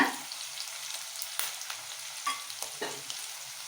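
Curry leaves and a dried red chili frying in hot oil in a pan for a Tamil banana flower stir-fry, giving a soft steady sizzle with a few brief crackles and pops, close and alone without any talk.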